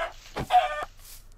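A chicken in the video game Minecraft gives a short burst of clucks, two quick sharp notes then a brief nasal cluck, close and clear over faint background hum.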